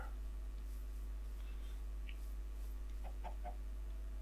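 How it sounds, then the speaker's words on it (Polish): Chickens cluck in a Minecraft survival game, a few short, quiet clucks spread over a steady low hum, with no talk over them. "Tu są kurczaki."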